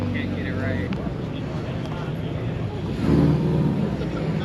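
A car engine idles and rumbles at a cars and coffee meet, then revs louder near the end with a throaty aftermarket exhaust note, while people talk nearby.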